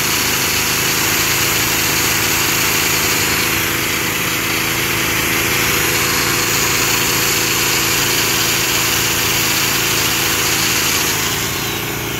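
A used Japanese generator engine runs under load with an angle grinder plugged in, a loud, close, unbroken engine drone that holds steady throughout with no voices.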